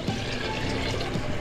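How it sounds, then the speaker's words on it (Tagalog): Water is poured into a pot of chicken soup, a steady close splashing and gurgling fill that runs without pause under faint room noise. "Dagdagan po natin ng tubig para mas marami tayong mahigop na sabaw."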